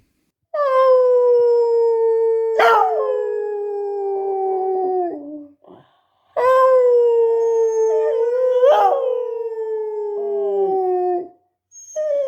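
A dog howls along to an old blues song in two long, sustained, wavering phrases separated by a short pause, loud and close.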